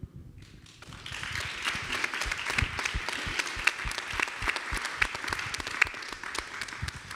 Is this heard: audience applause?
yes